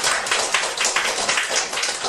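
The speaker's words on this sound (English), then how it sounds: "Let's give Daniel a bit of applause." Steady, close applause from an audience at a Singapore speakers' club meeting, an even wash of many hands clapping for a speaker, with no talking over it.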